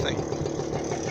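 A quiet moped engine idles with a soft, even putter, close and steady, low and muted throughout this brief moment.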